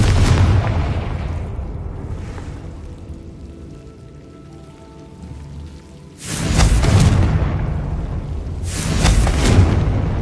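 Two heavy Confringo blasting-curse explosions in a Harry Potter game, each a loud broadband boom with crackling debris, the first about six seconds in and the second a few seconds later, following a quieter stretch of low rumble.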